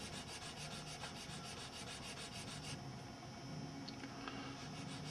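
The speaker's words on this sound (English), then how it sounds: "So you go ahead and sand away." Hand sanding of a small rubber replica window weather seal gives a quiet, steady scratchy rubbing in quick strokes, close up and without speech.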